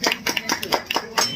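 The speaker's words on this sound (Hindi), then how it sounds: "आपकी पूरी टीम के लिए तालियां।" Sparse, uneven clapping from a small group honouring a cooking team, about half a dozen separate claps over a moment, fairly close and without speech.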